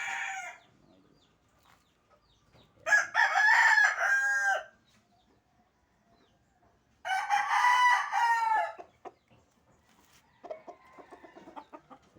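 Native chicken and jungle fowl crossbreed roosters crow nearby in several separate, loud calls with quiet gaps between, the last one fainter and more distant.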